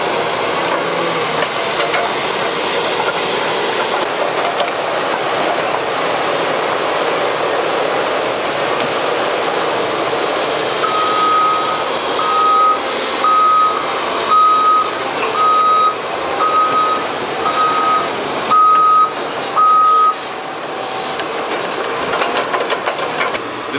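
A Cat 538 log loader works logs in Oregon, its engine running with a steady hiss and rumble while a regular series of high reversing beeps sounds for several seconds partway through; no voices.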